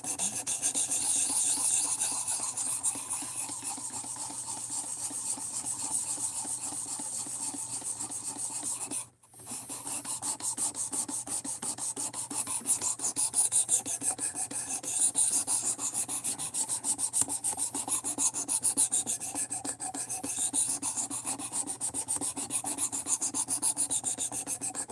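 Steady rasping strokes of a blade being sharpened on a cheap 600-grit stone block, a continuous back-and-forth scraping that runs close and fairly loud throughout, with one brief pause partway through.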